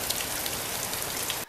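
Steady rain falling outside, a constant dense hiss of drops pattering on surfaces, close and even throughout.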